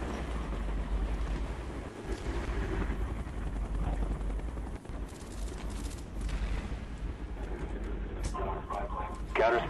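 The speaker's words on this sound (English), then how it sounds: "Enemy spy plane incoming." A video game aircraft drones overhead as a steady, broad engine roar, running continuously under voices and other game sounds.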